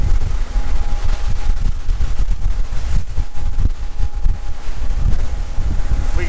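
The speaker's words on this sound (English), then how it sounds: "We got a good 20 miles an hour, a southeast wind." Strong 20 mph southeast wind buffets a fishing boat heading offshore through rough seas off Islamorada, a steady, loud roar of wind noise filling the whole stretch with no voices.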